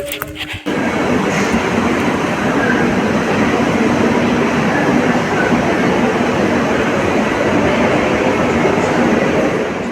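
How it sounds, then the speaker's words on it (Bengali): Train pulling into a station platform, heard as a loud, steady rumble of rolling wheels and carriages that begins abruptly after a short sharp noise and continues unbroken. "ট্রেন ঢুকছে ট্রেন ঢুকছে"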